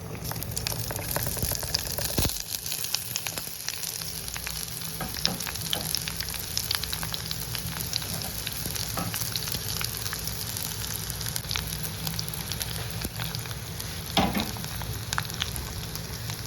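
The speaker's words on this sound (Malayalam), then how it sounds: "വെച്ചിരിക്കുന്ന കൊച്ചുള്ളിയും സവാളയും കൂടെ അതിലോട്ട് ആഡ് ചെയ്ത് കൊടുക്കാം" Shallots and onions frying in hot oil: a dense, steady sizzle and crackle that runs unbroken throughout, with occasional stirring scrapes and no voices.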